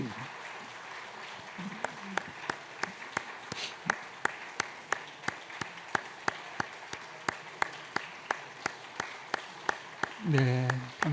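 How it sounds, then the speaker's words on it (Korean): A church congregation at a Sunday baptism service keeps clapping in a steady, even rhythm, crisp regular beats continuing throughout, with a voice speaking briefly near the end. "계속 박수 쳐주십시오"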